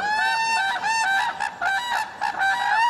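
Whooping cranes, North America's tallest birds at five feet, trumpet a loud, continuous series of harmonic honking calls, overlapping and rising and falling over about three seconds with no voices present.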